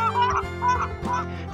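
Geese flying south honk in a quick series of loud, nasal calls that overlap closely, with no talking.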